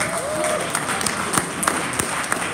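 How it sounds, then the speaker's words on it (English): Audience clapping at a community gathering, a moderate spread of hands with a few sharp, distinct claps standing out, and a voice briefly heard at the start. "Let us clap for him"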